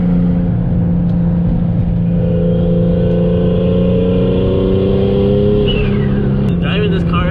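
A Dodge Hellcat sports car engine drones steadily and loud from inside while driving, with a rising rev near the end and a brief burst of noise.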